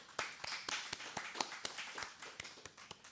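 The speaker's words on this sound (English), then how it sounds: "Give you a round of applause for Itty Bitty Apps" Sparse, scattered hand claps from a small meetup audience of Melbourne CocoaHeads developers, thanking sponsor Itty Bitty Apps; distinct separate claps at an uneven rhythm, fairly faint and close, with no talk.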